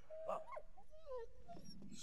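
A dog whimpers in the video game Valiant Hearts with a few high, wavering whines that rise and fall, fairly faint and quiet, over a low background hum.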